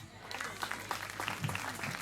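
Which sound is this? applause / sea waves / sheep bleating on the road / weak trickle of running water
applause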